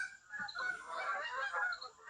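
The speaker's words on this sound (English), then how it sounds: "Geese going over. Can you hear that?" About six Canada geese honk as they fly low overhead in a Georgia backyard, a cluster of overlapping nasal honks that swells and fades over a couple of seconds, fairly faint with no talking.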